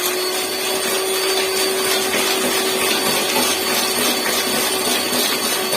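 An electric mixer beats sugar into a batch, giving a loud, continuous whirring drone with a steady motor hum throughout and no talking.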